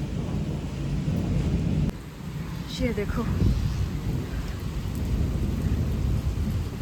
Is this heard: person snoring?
no